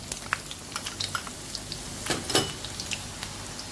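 Fresh ginger hitting well-heated oil for a fish pickle, giving a soft, crackly sizzle of scattered pops and spits that swell briefly near the middle, close by and fairly quiet, with no talking.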